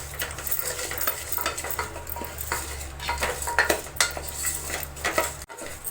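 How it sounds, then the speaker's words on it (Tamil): Metal utensil scraping and clattering in a pan as ingredients are stirred and sautéed, with a faint sizzle and a steady low hum beneath. "மீடியம் ஃப்ளேமில் வச்சுட்டு இது நல்லா வதக்கி விட்டுக்கலாம்."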